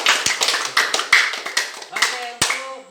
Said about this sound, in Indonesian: Tepuk tangan buat Teruna.